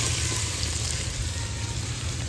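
Paneer frying lightly in white oil gives a steady, close sizzle that holds even and unbroken from start to finish, with no voices over it.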